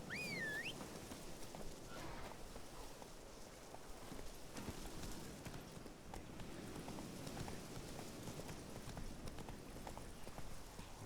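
Hoofbeats of Roach, the horse in The Witcher III, clip-clopping in a steady trotting rhythm over continuous outdoor ambience, with no talk.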